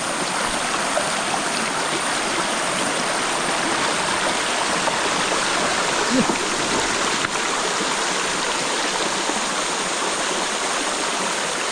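A stream at Tham Than Lot Noi cave flows in a steady, close rush of water that runs evenly throughout.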